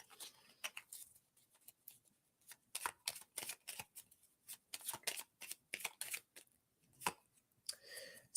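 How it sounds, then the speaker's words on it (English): Oracle cards are shuffled, tapped and handled, some of them spilling over, in a quiet room. Close, dry papery riffles and soft slaps come in uneven bursts, with a rustle at the end and no voices. "Oops, too many cards falling over there."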